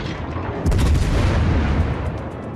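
A warship's naval guns fire a heavy salvo in World of Warships on the Petropavlovsk, a loud deep boom that swells and rumbles over a dense background of battle noise.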